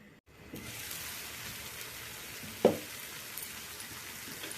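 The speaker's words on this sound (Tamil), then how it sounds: "இது அப்படியே ஒரு சுற்று சுற்றி எடுத்துன்னு வந்துடுறேன்" Beetroot stir-fry with red chilli powder is stirred in a pan, giving a steady soft sizzle throughout and one sharp clack of the spoon against the pan partway through.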